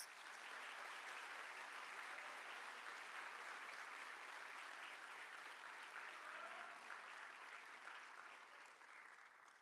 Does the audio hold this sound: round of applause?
yes